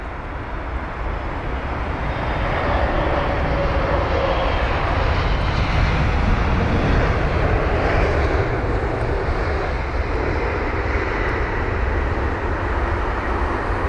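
An old jet airliner roars at London Heathrow as a broad, steady engine rumble that stays loud and unbroken throughout, with no voices.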